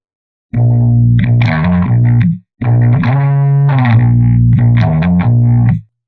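A heavily distorted bass riff chugs along in two loud phrases, with a short gap between them; no voices.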